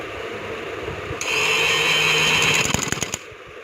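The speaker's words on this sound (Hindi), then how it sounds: "अब हम सिलाई लगाते हैं।" A sewing machine stitches along a folded fabric edge of a trouser hem, its motor running in a brief steady whir and ending with a few quick clattering stitches before stopping.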